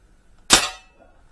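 A Crosman M4-177 air rifle fires a single BB, a sharp snappy crack with a short fading tail, close and alone in an otherwise quiet moment.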